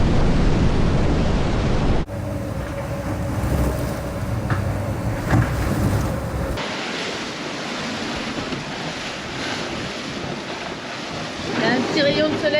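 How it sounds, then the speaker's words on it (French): Three-metre ocean swell in the Indian Ocean heard aboard a racing sailboat during the Vendée Globe 2024, a loud continuous wash of rushing water and wind noise that surges and eases. "Il y a encore pas mal de houle, il y a encore 3 mètres."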